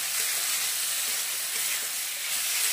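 Small diced potatoes sauté in hot oil in a pan, a loud, continuous close-up sizzle with a bright hissing texture and no pauses.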